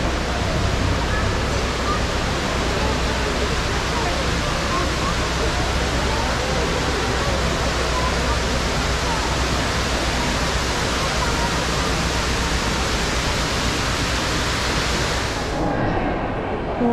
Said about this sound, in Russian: Эти вот водопады.